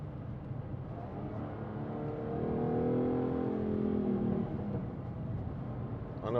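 A new Citroen Ami electric car drives up Beacon Fell, its motor giving a faint rising whine over low road rumble that swells in the middle and then eases.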